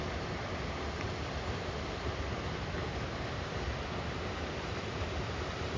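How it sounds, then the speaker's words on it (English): A small stream pours from a dam overflow pipe at Loudon County Dam, a steady, dense rushing wash of water that holds constant and close throughout, with no voices. "Just a small little stream coming out of the dam."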